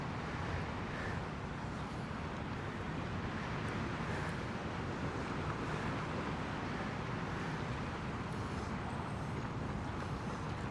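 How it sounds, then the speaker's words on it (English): Steady wind blows outdoors at a Brooklyn sunset spot in New York City, a constant broadband rush buffeting the microphone with no clear gaps and no one talking. "A little windy out here today."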